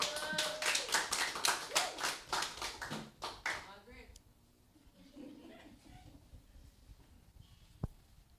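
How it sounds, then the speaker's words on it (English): Seminar audience at a legal aid fair gives a rhythmic round of clapping for about four seconds, with some chuckles mixed in, before it fades to quiet room tone and a single faint tap. "Round of applause."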